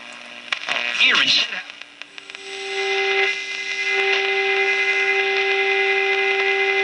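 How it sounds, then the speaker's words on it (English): A steady signal-generator tone set to 1400 kc comes through a Zenith H500 tube radio under restoration. It holds unbroken and fairly loud for several seconds, with a clear whistle-like pitch and faint hiss behind it, after some brief knocks and handling noise. "I got the signal generator on 1400"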